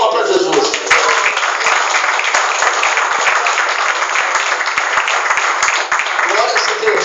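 A church congregation at a Pentecostal service in Curitiba claps loudly and continuously in unison, a dense wash of applause that fills the hall throughout, with voices mixed in.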